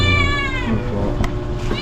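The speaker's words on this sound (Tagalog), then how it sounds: "Nakakulong yung alaga nilang pusa." A caged pet cat meows in a drawn-out, wavering cry, then gives a second shorter meow near the end, loud and close with a low background hum.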